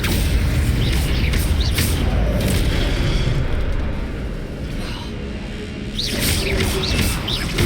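Spells are cast in Hogwarts Legacy PC gameplay, including Levioso, Incendio and Accio. They sound as loud, dense booming blasts and whooshing bursts over a constant rumbling bed, easing briefly before surging again.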